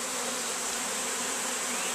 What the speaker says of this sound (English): I'm going to take off the lid to the bees. And there they all are under the lid.